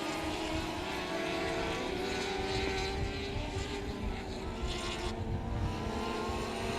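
Dwarf cars race in a feature at South Texas Speedway, their engines a constant loud roar that rises and falls slightly as the pack passes, with no clear voices over it.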